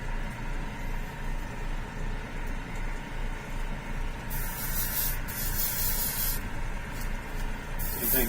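Spray gun misting yellow paint onto a prototype Batman build, a close, continuous hiss that swells into several louder bursts toward the end.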